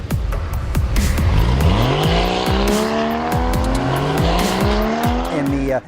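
A fast race car on a track near Tulsa roars loudly through rising and falling gear changes, its engine whine climbing repeatedly while the tires squeal and skid throughout.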